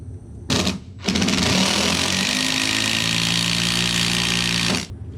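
A drill or driver sinks a 5/16 by 5 1/8 inch structural screw into a doubled-up joist on a cedar deck, a short burst followed by a loud, steady grinding whir lasting several seconds up close before stopping.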